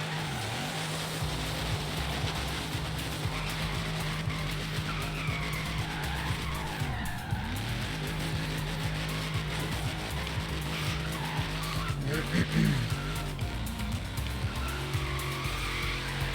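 A purple Liberty Walk-kitted Dodge Challenger Hellcat drifting through city streets in the racing game Forza Horizon 3, with a loud, continuous engine drone and sustained tire squeal throughout, rising and falling as the slide continues.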